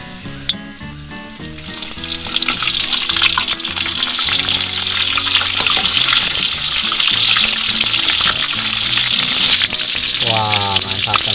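Battered food fries slowly in hot oil over a small flame at a camping shelter kitchen, a loud, close, continuous sizzle and crackle that builds slightly and holds steady with no talking.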